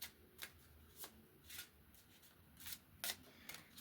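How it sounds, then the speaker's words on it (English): A deck of tarot cards being shuffled by hand in quick, repeated riffling bursts, close and fairly quiet, with no talking. "Let's get this shuffled up"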